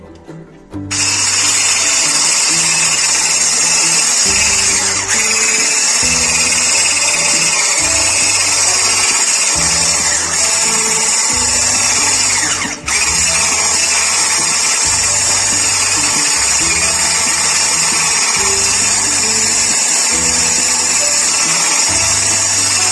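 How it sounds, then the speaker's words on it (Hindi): An electric kitchen grinder whirs loudly and steadily while grinding icing sugar and black pepper, its motor drone close and constant, with a throbbing low rhythm running through the whole stretch. "अब इसको हम अच्छे से ग्राइंड कर लेंगे।"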